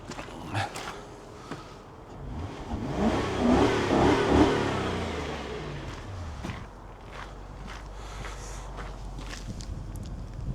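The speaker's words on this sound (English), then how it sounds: "That's your V8." 2005 Jaguar XJ V8 4.2 Sport engine rumbling at idle, quiet and low, swelling briefly in a soft rev before settling back, with light clicks and footsteps nearby.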